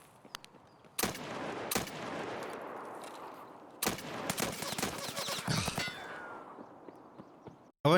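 Gunfire in the video game Escape from Tarkov comes as sharp, loud single shots followed by sustained bursts of rapid fire with a rumbling tail, then a brief lull before one more shot at the very end.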